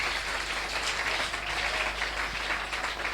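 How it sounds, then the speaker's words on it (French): A church congregation claps and cheers in a sustained burst of applause, dense, loud and close, filling the whole room without any break. "Est-ce que quelqu'un peut m'aider à acclamer le roi des rois?"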